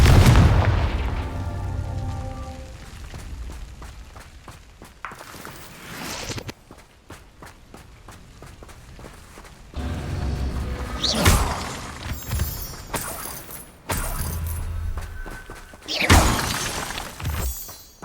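Confringo blast spells burst in Hogwarts Legacy with loud booming explosions and shattering debris. Footstep-like crunches and rumbling fill the gaps between blasts, and several strong impacts come near the start, middle and end.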